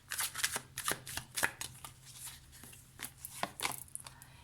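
Tarot cards shuffled and drawn by hand, a string of crisp riffling flicks and soft slaps, close and fairly quiet, with no voices.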